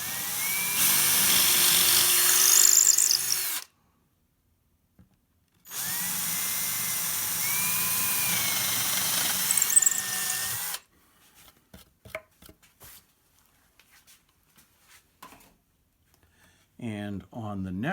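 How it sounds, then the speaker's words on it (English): A power drill bores through paint into a guitar body to clear screw holes, two sustained whining bursts of several seconds separated by a pause, followed by quieter handling clicks and knocks and a brief voice. "I'm going to flip it over so I'm drilling the paint and then drilling down"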